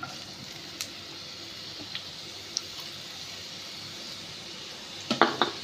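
Onion and chillies fry in hot oil in a pan. A quiet, steady sizzle runs throughout, and a few spoon clicks and scraping stirs become louder near the end.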